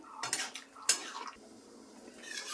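A utensil clinks and scrapes against a pot while a vegetarian vegetable curry is stirred, a few sharp metallic taps and short scrapes, close and fairly quiet.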